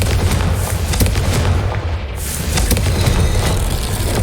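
Fire spell explosions in the video game Hogwarts Legacy, heavy deep booms and bursts rolling through a dense rumbling game soundscape, loud and close with repeated impacts.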